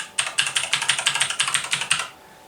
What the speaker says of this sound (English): The sound of the click click click like this.